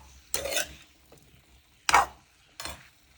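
Pasta being stirred in a pan, with three separate scraping swishes, a long one at the start and two shorter strokes later, close by and fairly quiet with a faint sizzle underneath.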